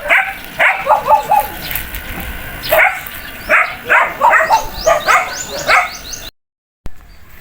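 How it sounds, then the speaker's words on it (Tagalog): Many dogs bark over and over in overlapping bursts in Barangay Matalava, Lingayen, Pangasinan, with yips and higher whining calls mixed in, fairly close, before a brief silence near the end. "Daming aso nito."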